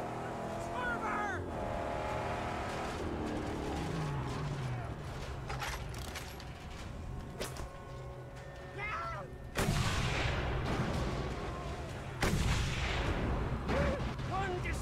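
Gunfire and booming blasts in the Mad Max video game over a constant roaring car engine, with heavy impacts standing out midway and near the end while a voice speaks at times.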